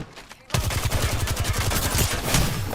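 Rapid automatic weapon fire in a battle royale shooter game, a loud close burst of evenly spaced shots starting abruptly and continuing steadily to the end.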